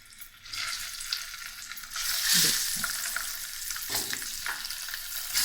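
Eggs frying in a pan of pea curry over low heat, a steady close sizzle that swells midway with brief stirring or pan-shaking clatters, no voices.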